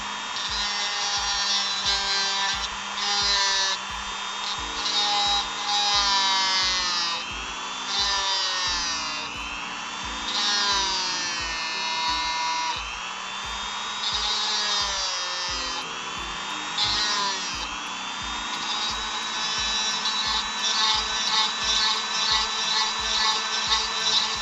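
Steady power-tool grinding with a rotary carving bit, hollowing out the bottom socket of a plastic Marvel Legends Vulcan action figure and beveling the hole, close and continuous with shifting pitch as pressure varies.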